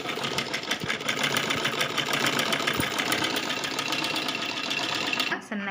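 A sewing machine stitches piping along the edge of fabric for a girl's long frock, a fast, steady mechanical whirring close up that stops abruptly near the end.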